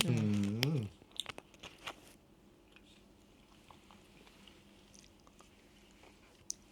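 A hard caramel snack from a 7-Eleven is bitten with a loud crunch, followed by a few faint chewing and clicking sounds close to the mouth in a quiet setting.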